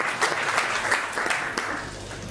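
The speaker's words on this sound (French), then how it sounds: "vous pouvez l'applaudir très fort, parce que vraiment, elle le mérite" Audience clapping at a school inauguration evening, a steady warm wash of applause from a room of people, fairly loud and continuous, fading slightly at the end.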